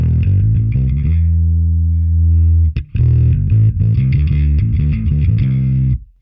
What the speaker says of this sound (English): here's distortion. Let's put a little distortion on.